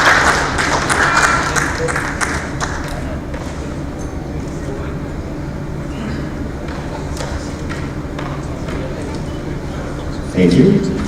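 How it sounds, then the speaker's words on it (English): Applause fills a graduation ceremony hall during EBS's 2024 graduation in Dubai, a dense, steady wash of many hands clapping that carries on throughout and swells briefly near the end. "Keep those applause coming"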